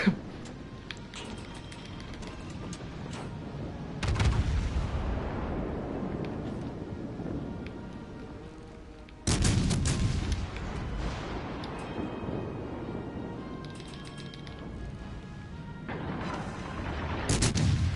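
Video game gunfire, with heavy booming shots hitting at intervals of several seconds, each followed by a long rumbling decay over a steady background of battle noise, with no talk.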